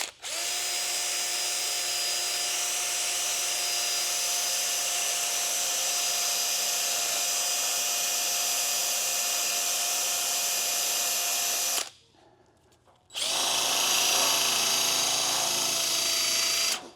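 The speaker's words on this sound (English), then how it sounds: "And maybe my drill will go fast enough." A power drill spins a cotton buff loaded with rouge against an aluminum grill, a steady high whine running loud and continuous, cutting out for about a second before resuming.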